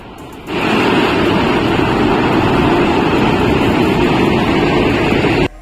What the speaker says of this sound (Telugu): అదిగో దగ్గరికి వచ్చేసాం వాటర్ ఫాల్ దగ్గరికి.